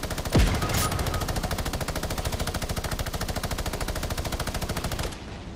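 Minigun fire in the Fortnite video game, a continuous rapid rattling stream of shots that runs steadily at high volume for several seconds before cutting off.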